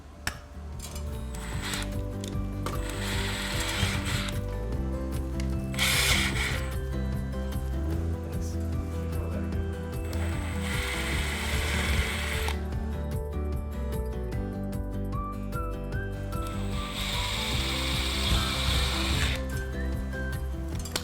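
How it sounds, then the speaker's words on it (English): A drill bores small holes through a paper template into a wall for a MRCOOL mini split mounting plate, a continuous grinding, rasping whir with brief pauses, close and fairly loud. "we'll take a drill and actually just poke a little hole through the template into the truss core, into the wall"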